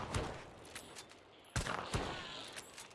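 Gunfire in the video game Hunt: Showdown, several sharp reports with echoing tails, two of them loud and close and the others fainter, set against a quiet background.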